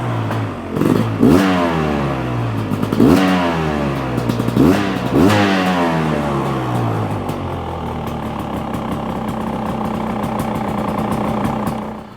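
A Beta motorcycle engine fires up and is blipped through several sharp revs that rise and fall, then drops to a steady, close idle for the rest of the clip, with no voices.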